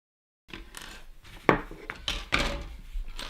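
Hobby cutters snip plastic Space Marine Primaris sergeant parts off a sprue, giving sharp close clicks and snaps with light rustling of the frame between cuts.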